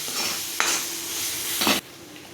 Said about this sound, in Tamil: இப்போ இதெல்லாம் போட்டு நல்லா மிக்ஸ் பண்ணிக்கலாம்.